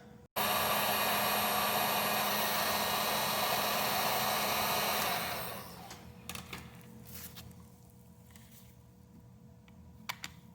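Heat gun warming a part during a Volkswagen Vanagon charcoal canister replacement, blowing as a loud, steady hiss for about five seconds before cutting off, leaving quieter scattered clicks and handling noises.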